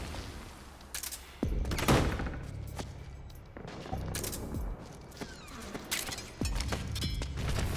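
Sustained suppressing gunfire in the video game Metal Gear Solid 4: Guns of the Patriots, with bursts of automatic fire and heavy impacts rolling across the scene, loud and close with brief pauses between volleys.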